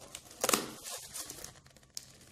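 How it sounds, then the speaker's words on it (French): French army field ration biscuit packaging being torn open, heard as a short, loud crinkling rip followed by softer plastic rustling and a final crisp crackle. "Je vais vous ouvrir ça."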